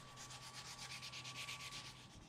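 Hand sanding of a knife handle on a forged bearing-steel Damascus knife, a steady rhythmic rasp of repeated back-and-forth strokes, close and fairly loud, with no talking over it.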